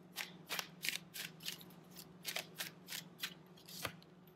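Tarot cards are shuffled and drawn in quick, soft riffling bursts, a dozen or so crisp papery flutters close by and fairly quiet, with no talking.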